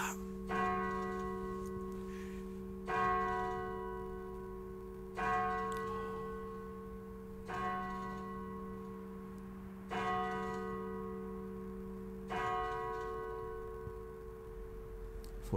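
Church bell of the Church of All Saints in York tolling slowly and steadily, six or seven evenly spaced strokes about two and a half seconds apart, each ringing on with a long hum, moderately distant and with no talk over it.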